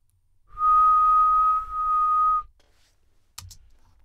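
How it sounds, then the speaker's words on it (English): A person whistles one steady, sustained note for about two seconds with a brief dip in the middle, recorded close as a sampler sample, followed by silence and a couple of sharp clicks. "do a sample of me whistling"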